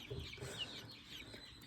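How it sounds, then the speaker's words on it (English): Five young pullets and two cockerels cluck softly in a chick barn, faint and a little distant, with gentle chirps over a low background hiss. "5 pullets and 2 cockerels"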